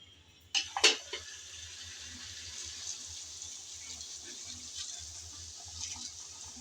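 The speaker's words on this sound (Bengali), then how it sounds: "এখন দিয়ে দেব পরিমাণ মতো পানি" Water, heated beforehand on another stove, is poured into a pot of rice for mutton biryani. A sharp splash leads into a steady, soft pouring hiss in a kitchen, with no talking.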